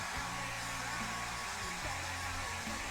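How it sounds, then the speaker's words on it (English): A hair dryer blows steadily on thick paint, a continuous close whooshing roar with a low motor hum that holds without break for the whole stretch. "Okay, so we'll blow dry for a minute."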